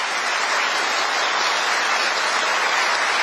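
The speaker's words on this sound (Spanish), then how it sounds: "Pido un fuerte aplauso," A crowd of transport business owners gives sustained, dense applause in support of the president's state-of-exception measures, steady and loud throughout with no talk.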